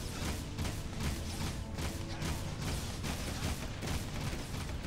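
Rapid bursts of gunfire crackle in the video game Jak 2: Renegade, a busy run of repeated shots and impacts over a constant game soundscape, moderately loud and without speech.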